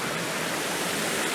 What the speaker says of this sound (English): you've got this separate little fall here